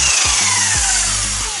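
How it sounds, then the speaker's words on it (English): A Surform rasp shaves excess cured epoxy squeeze-out from the deck seam of a wooden kayak, loud and close with rapid rasping strokes that run together into one continuous scraping stretch. "Then I just used my Sureform,"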